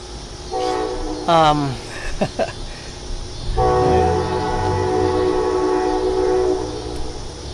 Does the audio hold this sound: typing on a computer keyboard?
no